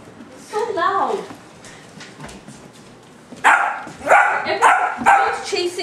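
A dog barks repeatedly at a hamster rolling around in a plastic ball, with a few sharp yips early and a louder burst of close barks later, as people talk over it.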